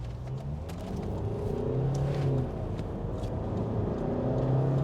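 A Range Rover in S mode accelerating hard from standstill toward 100 km/h, heard from inside the cabin as a steady, rising engine and road rumble building in pitch, with no talking.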